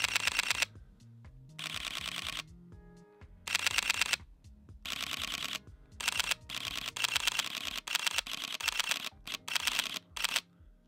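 Sony A7R III mirrorless camera shutter firing in a series of loud, close bursts, rapid clicks clustered into runs of varying length separated by brief pauses, with no talking.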